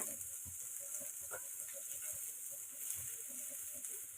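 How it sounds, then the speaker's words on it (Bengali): Tomatoes frying in a pan for tomato rice give a steady, close sizzle and hiss with faint stirring scrapes running throughout. "এবারে এটাকে ভালো করে টমেটো যতক্ষণ না কাঁচা গন্ধ চলে যাবে ততক্ষণ ভাজতে হবে।"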